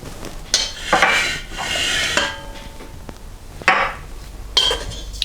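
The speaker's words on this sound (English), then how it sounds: "we need to mix all of our dry ingredients first before we add any liquids" Dry ingredients for homemade garlic bread dough are stirred in a bowl, with intermittent scraping and clinking bursts of utensil against the bowl separated by short pauses, close and fairly loud.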